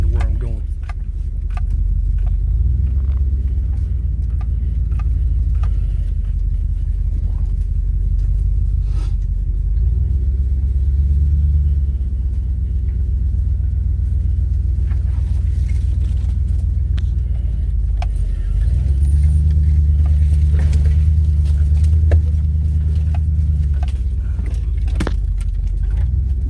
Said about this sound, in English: Sorry for the bumpy ride.